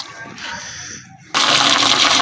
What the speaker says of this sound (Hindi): ये पानी यहाँ पे टूटी मौजूद है, नल जो है ये खोल देते हैं